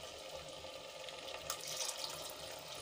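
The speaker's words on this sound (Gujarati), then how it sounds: "તો એમાં આપણે પાણી ઉમેરી દઈશું." Water pouring into a pan of green chickpea gravy, a quiet, continuous splashing stream lasting a few seconds with no talking.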